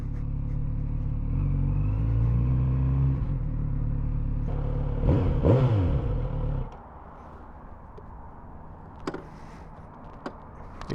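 A Kawasaki Z900RS motorcycle on stock exhaust pipes idles with a deep rumble close by, blips its throttle in a couple of rising revs, then cuts off, leaving faint clicks and quiet surroundings.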